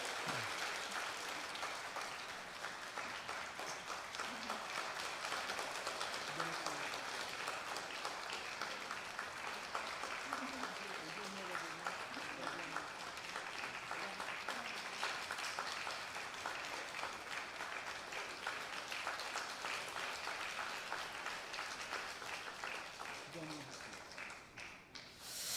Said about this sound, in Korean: 여러분들 기쁨으로 박수해 주시고